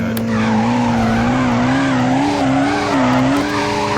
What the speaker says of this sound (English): what Veyron's doing here is a trick that we call fishtailing